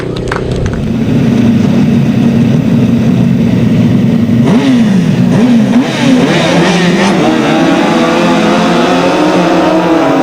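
Several 1000cc sidecar grasstrack racing motorcycles roar at full throttle, a loud continuous engine blare that rises and falls as the machines rev and pass, with faint announcer speech underneath.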